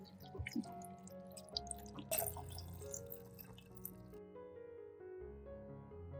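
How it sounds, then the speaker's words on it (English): Filtered water trickles and drips over lemons in a glass jar with a rising gurgle, quiet and close, with soft splashes and light clinks. "Pour filtered water over the lemons."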